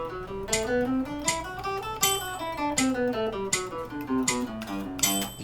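Guitar picked in steady sixteenth notes, a fast even stream of plucked tones moving through a changing chord pattern, close and clear with no talking.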